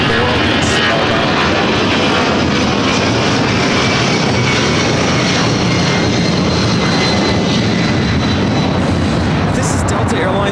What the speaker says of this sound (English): This is Delta Airlines 8958 taking off to Philadelphia on the 757-200 charter flights.